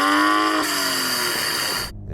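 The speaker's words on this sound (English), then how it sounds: "So I'm going to start off by revving up my car." A six-cylinder hot hatch engine revs hard nearby, its pitch climbing and then holding high before it stops abruptly.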